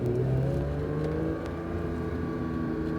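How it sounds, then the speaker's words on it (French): Porsche 911 GT3 engine on the Castellet circuit, heard from inside the car, a close, loud, steady throaty drone with rising harmonics as the throttle opens. The level dips slightly midway, and no one speaks. "Allez, accélère un peu plus"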